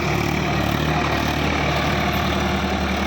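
A tractor's diesel engine idles just after being started, a steady low rumble that holds even and close throughout with no talking over it.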